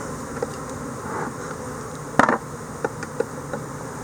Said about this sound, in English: There's a bee on the camera.